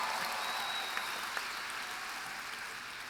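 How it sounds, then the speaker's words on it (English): A crowd at a graduation ceremony applauds a retiring physical education teacher, giving steady, fairly distant clapping that fills the room evenly throughout. "that is a well-earned applause"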